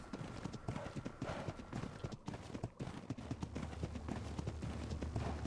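A tamed horse gallops in the video game ARK during Xbox PvP play, its hooves beating a quick, steady clip-clop rhythm that stays loud and close throughout, with no speech over it.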